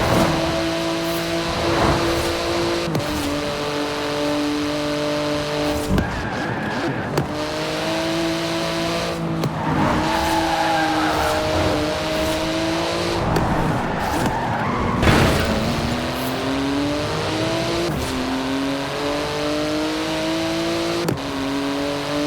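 A car racing flat out in Forza Horizon 4, its high revving engine droning continuously with repeated gear-shift pitch sweeps and tire squeal, loud and close throughout.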